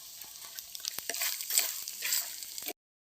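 Grated coconut sautéed in a pan for village-style coconut rice: a short burst of close stirring and scraping over a soft sizzle, ending abruptly.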